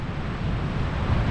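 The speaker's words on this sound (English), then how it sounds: "water kick up off the waves." Ocean surf at White Crest Beach on Cape Cod after the 2009 blizzard gives a steady, loud, rumbling roar of crashing waves, mixed with heavy wind buffeting and no voices.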